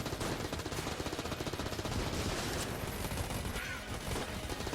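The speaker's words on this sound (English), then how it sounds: "That's a lot of bullets." Dense, continuous shock-round gunfire in the bullet-hell game Enter the Gungeon, a loud, steady rattle of rapid shots that barely lets up.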